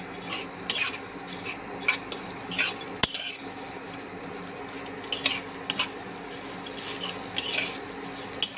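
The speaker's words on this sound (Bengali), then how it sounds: "ঘি দিয়ে এবার সামাইটাকে একটু ভাজতে থাকবো।" Vermicelli frying in ghee in a pan with a steady low sizzle, punctuated by scattered scrapes and clinks of a utensil stirring against the metal.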